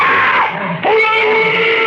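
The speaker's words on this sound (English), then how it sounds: "Those screams. They sounded familiar." In a 1955 radio drama, a woman's high, sustained scream breaks and then rises again, loud and close, with the pitch wavering over the wail.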